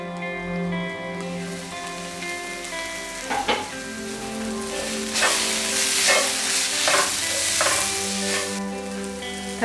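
Finely chopped medium tomato sizzles and fries in a pan for Kerala chicken puttu, with a steady crackling hiss, a few stirring scrapes and a tonal hum underneath.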